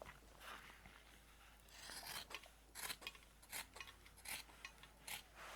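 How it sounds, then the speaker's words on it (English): Scissors cutting around the edges of sewn patchwork quilt blocks made of fabric scraps, faint close rasping snips that quicken into a steady rhythm, with no talking. "And now I am ready to cut around the edge"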